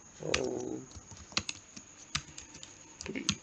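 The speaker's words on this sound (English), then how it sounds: "I'll type it over here" Keys tap on a computer keyboard in a scattered, irregular rhythm of crisp clicks, close and fairly quiet, with a short burst of faint background noise near the start and a steady high hum throughout.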